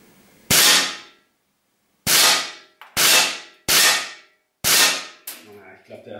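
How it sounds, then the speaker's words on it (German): Five sharp shots from a Steyr LP50RF air pistol, each a crisp, loud crack with a quick fading tail, spaced unevenly over a few seconds in an otherwise quiet room. "es macht halt mehr Spaß, einfach am Stück zu schießen"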